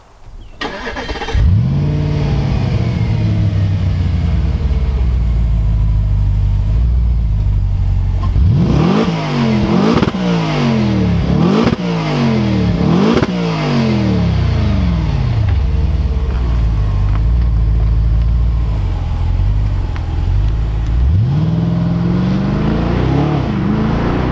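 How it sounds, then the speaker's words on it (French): An Audi RS5 in dynamic mode starts up and accelerates hard, its engine rising through several quick gear-shift pulls in succession, loud and close from inside the car, then settling before revving again at the end. "On vient de partir, on rentre dans le vif du sujet, c'est une RS5, je l'ai mise en mode dynamique."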